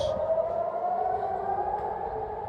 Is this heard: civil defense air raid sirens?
yes